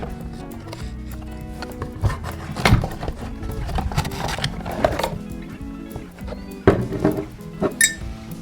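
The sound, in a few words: opening box of Blenders Pride whiskey bottle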